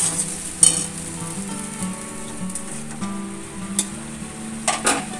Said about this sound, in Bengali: এটা ভালো করে একটু কষিয়ে নিতে হবে